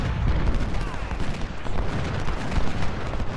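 Artillery and gunfire in the Civil War battle game Ultimate General: Civil War at the Battle of Cross Keys, a steady crackle of musketry and cannon booms rolling together without pause.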